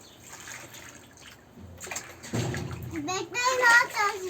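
Water being poured over a child in a small toy-filled pool on a balcony, splashing and trickling at close range while a child and an adult talk and laugh.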